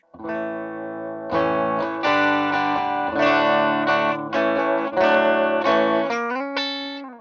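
Electric guitar through a Birdsong Amps Kestrel Tweed Princeton-style amp with the volume rolled back, chords ringing out with a fairly clean tone and slight effects, strummed and held steadily for several seconds.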